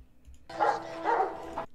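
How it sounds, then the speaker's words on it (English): Dogs barking in the film The Terminator, two loud, close barks in quick succession over a quiet low background hum. "So Kyle Reese hears the dogs."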